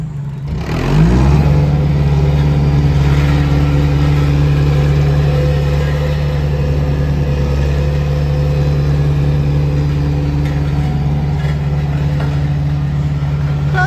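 A Sakai TW500 road roller of about four tons, with a steel front drum and rear tires, fires up its four-cylinder diesel engine, which then settles into a loud, steady, close-up idle rumble.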